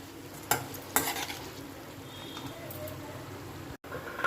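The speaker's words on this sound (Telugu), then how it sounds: "ఈ కాకరకాయ ఫ్రైని మధ్య మధ్యలో ఇలా కలుపుకోండి" Bitter gourd fry sizzles in a pan while a spoon stirs it, with a couple of sharp scraping knocks against the pan over a continuous soft frying hiss.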